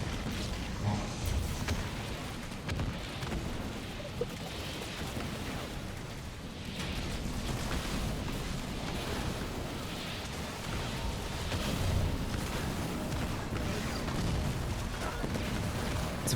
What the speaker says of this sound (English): It's a very nice cannon bomb.